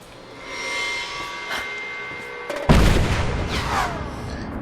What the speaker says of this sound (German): Das explodiert.